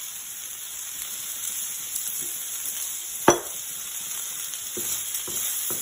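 Vegetables stir-frying in oil in a pan for a Chinese spicy and sour stir fry, a continuous close sizzle broken by one sharp clank from a utensil and a few softer scrapes, no talking.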